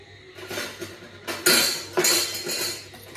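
A metal spoon clinks and scrapes against dishes while masala is prepared for a Bangude fish fry, a few bright ringing knocks, two louder strikes near the middle, close and clear with no talk.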